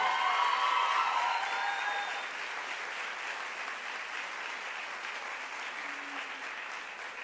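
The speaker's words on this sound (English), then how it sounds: "I want you to give them a round of applause for doing it with us" Audience at a high school valedictory ceremony applauds steadily, loudest in the first two seconds, then settles into sustained, slightly softer clapping from a large crowd.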